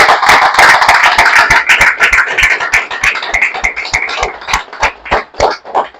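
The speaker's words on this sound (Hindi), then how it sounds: "एक बार जोरदार तालियां" An audience applauds at an FPRT seminar stage event, dense and loud at first, then thinning into separate, uneven claps that trail off.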